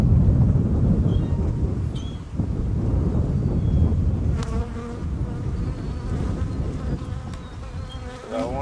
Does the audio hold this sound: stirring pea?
no